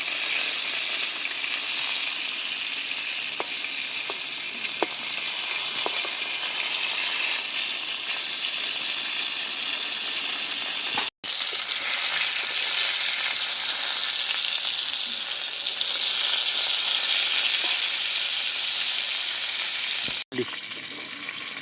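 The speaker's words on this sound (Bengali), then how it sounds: "গোটা গোটা পটল তো হালকা আঁচে ভাজলে খুব সুন্দর পটল ভাজা হয়ে যায়" Whole pointed gourds frying in oil over a low flame give a steady, even sizzle that runs unbroken throughout, with a couple of brief dropouts.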